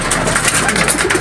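Several pet pigeons scuffle and coo close by, with flapping and rustling in a busy, noisy burst.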